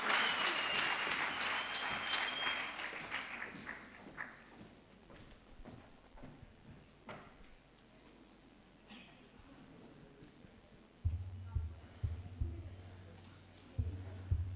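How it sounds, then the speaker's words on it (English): Applause from an audience at a gender-based violence awareness launch event in Polokwane, loud at first and then thinning into scattered claps, with a faint voice and a low hum surfacing near the end. "Please give them a round of applause."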